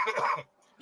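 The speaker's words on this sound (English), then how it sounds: "I got a cough" A single close cough, a burst of harsh noise in the first half-second, then near silence with a faint breath at the end.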